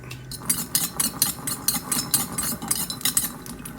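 Shallots, chilies and garlic dry-roasting in a pan, stirred with a utensil that scrapes and clinks against the metal in a quick, regular rhythm, close up.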